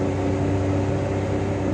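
A car's air conditioner running right after the ignition is turned on through a voice-controlled smart car system, a steady close blower whoosh over a low engine hum.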